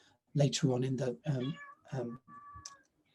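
A pet cat meows a couple of times, high and close, with someone talking just before and over it.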